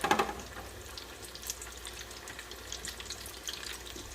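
Hand fruit pies made from loaf bread fry in healthier oil, giving a soft continuous sizzle with crackles, faint and close, after a brief clatter at the start.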